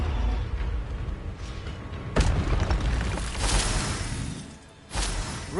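Expelliarmus spell effects in Hogwarts Legacy, with a couple of loud booming bursts and whooshing blasts over a rumbling game-combat background.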